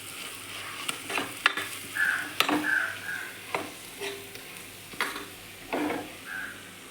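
Pepper powder and spices are stirred together in a pan while cooking chicken curry, a soft sizzle with scraping spoon strokes and light clinks against the pan, close and irregular.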